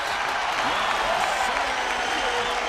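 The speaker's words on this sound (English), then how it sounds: "Again, Big Chungus gets massive applause." An audience gives sustained applause, a dense wash of clapping that holds steady throughout with faint voices mixed in.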